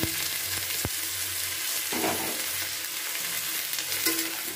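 Thin strips of ivy gourd and potato frying in a pan, a steady close sizzle broken by a few sharp knocks and scraping stirs of the spatula, with no talking.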